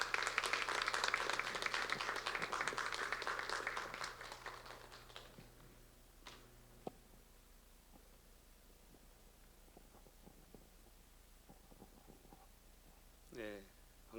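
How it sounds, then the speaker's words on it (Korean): A church congregation in Cheorwon claps heartily to welcome a guest preacher; the dense applause lasts about five seconds, then fades into a quiet room with a few stray sounds and a brief voice at the end. "우리 나오실 때 큰 박수로 환영해 주시면 감사하겠습니다"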